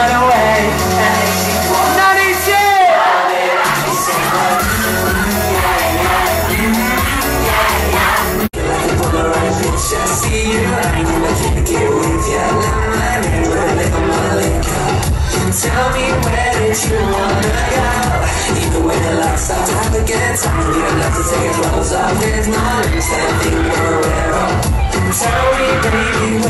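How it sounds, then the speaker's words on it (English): A large concert crowd at a boyband show in Nuneaton cheers, whoops and shouts loudly and continuously, a dense roar of many voices carrying on with music underneath. "What a crowd!"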